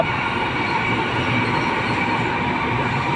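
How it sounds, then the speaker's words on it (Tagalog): An MRT train runs steadily along the elevated rail line near North Avenue and Timog Avenue, a close, continuous rumble of wheels on track with no talking. "kasalubong niya, ito North Avenue, MRT train, tuloy-tuloy lang po ang takbo nila"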